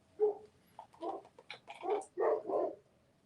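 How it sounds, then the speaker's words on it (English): Several dogs barking outdoors in a rapid burst of sharp, medium-distance barks and yips, overlapping in a ragged string of about six calls, with no talk over them. "Oh, dogs are really going off."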